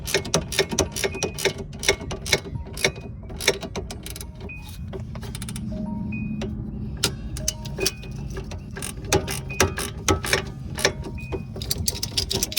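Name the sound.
ratchet tightening Pontiac G6 strut or stabilizer link bolt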